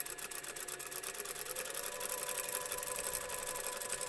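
Domestic sewing machine stitching over elastic with a 2.5 stitch length to gather fabric for a lamb-themed doll dress, running steadily and close with a fast, even whirring hum throughout, alone without talk.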